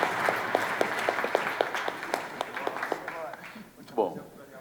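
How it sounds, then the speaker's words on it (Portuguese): A small audience at an investor pitch panel claps in a brief round, sparse distinct hand claps tapering off, with a voice speaking underneath near the end. "palmas, né?"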